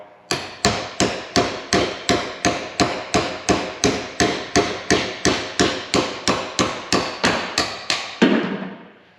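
A hammer pounds a bushing out in about twenty sharp, evenly spaced metallic blows, loud and close, each ringing briefly before the next strike, ending with a scraping shift.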